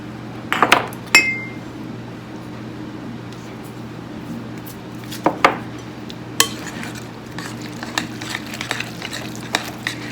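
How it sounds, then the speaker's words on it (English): A spoon scrapes and stirs through tuna casserole in a pot, giving a few sharp clinks and scrapes early and around the middle, then softer scattered knocks over a steady low background hum. "Give it a stir"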